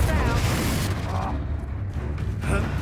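A Confringo spell blast from Hogwarts Legacy, a loud, deep booming explosion with a rumbling tail that fills the whole moment, with a player's voice talking faintly beneath it.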